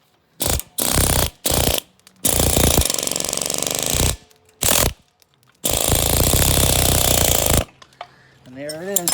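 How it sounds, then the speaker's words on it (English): An air chisel hammers at a rear suspension bushing on a 1966 Pontiac 355 posi rear axle in a garage. It comes in loud, rapid bursts of varying length separated by short pauses, with a brief mechanical whir near the end. "Take your air chisel."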